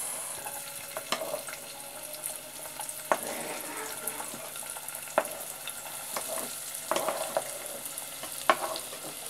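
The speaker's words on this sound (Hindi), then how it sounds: "तेल मेरा हो गया गरम, और अब तेल के बाद मैंने डालनी है प्याज।" Onions hitting hot oil in a pan on a home stove for fish stew, a faint steady sizzle with scattered clinks and scraping taps at irregular intervals; no talking.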